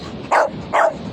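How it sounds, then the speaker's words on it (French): A chatty dog gives two short, sharp barks about half a second apart, close and fairly loud against a quiet room. "C'est un chien qui est un petit peu bavard"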